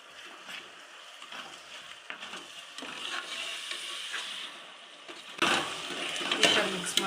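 Tomatoes sizzling in a pan with half-fried onions and ginger-garlic paste while being stirred for mushroom biryani: a steady, close frying hiss with scraping stir strokes that swell louder toward the end.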